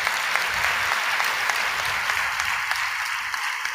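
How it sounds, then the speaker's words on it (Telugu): Steady, dense applause from an audience at a Telugu Christian sermon, a continuous wash of many hands clapping together, loud and close, with no voices rising above it. "చప్పట్లు కొట్టాలనిపించలేదా మీకు?"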